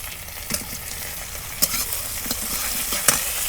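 Dried fish fries and sizzles in a pan with a steady crackling hiss, broken by a few sharp stirring scrapes and clinks of a utensil against the metal, close and alone.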